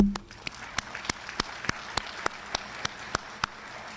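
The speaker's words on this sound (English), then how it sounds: "This team deserves a round of applause." Scattered, sparse clapping at an adult school graduation ceremony, individual claps landing at a slow, fairly even pace, faint and somewhat distant in a large room.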